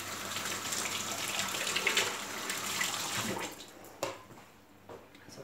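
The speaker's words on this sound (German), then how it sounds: "Ich wasche mir mal eben die Finger." Water runs from a kitchen tap as fingers are rinsed beneath it, a steady close splashing that fades out near the end.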